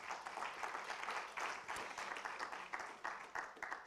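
Warm applause from the audience at a French media innovation awards ceremony, dense rhythmic clapping swelling in waves for several seconds, no voices over it.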